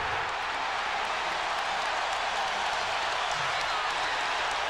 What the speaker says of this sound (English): And that gets the crowd back into it.